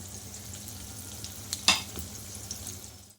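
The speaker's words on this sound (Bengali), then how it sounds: "ডিমগুলো সব ভাজা হয়ে গেছে" Fish roe fries in a pan with a low, steady sizzle and small pops, broken by a few quick stirring scrapes, one sharper and louder near the middle.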